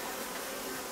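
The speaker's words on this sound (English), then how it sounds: "I shake the bees off or gently brush them off" Honey bees buzzing around a top bar hive during comb honey harvesting, a dense continuous hum of many insects close by with no voices.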